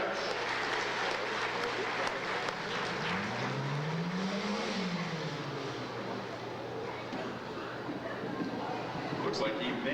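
A stunt car rolls over at an outdoor daredevil stunt show in Bloomsburg, Pennsylvania, its engine rising and falling in a sweeping whine amid steady crowd noise, with a voice speaking over it.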